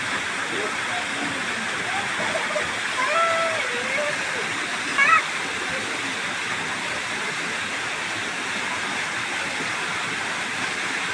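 A forest waterfall near Srivilliputhur, Virudhunagar, pours in a steady broadband rush for the whole stretch, with faint voices and a brief louder sound partway through.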